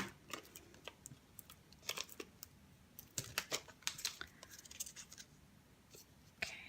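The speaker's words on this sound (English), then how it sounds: "I'm just going to cut some of my end pieces here." Scissors snipping paper end pieces for a handmade notecard, a series of quiet, close, crisp cuts in irregular bursts over a low, hushed background.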